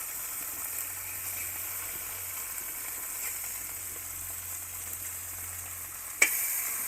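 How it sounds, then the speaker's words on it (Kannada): Boneless mackerel (bangude) coated in masala fries in a pan with a steady, even sizzle and no talk, ending in a sharp brief clatter near the end. "ಯಾವ ಥರ ಫ್ರೈ ಆಗ್ತಿದೆ ಅಂತ ನೋಡ್ಬೋದು ನಿಮಗೆ."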